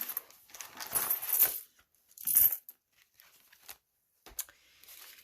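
Coins from a budget envelope clink and jingle close by in short bursts, with a couple of louder handling rattles and quiet gaps between them.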